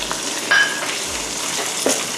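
Bite-size pieces of salted fish sizzle and crackle in a hot pan while making fried rice, a steady frying hiss with a few stirring scrapes, no voices.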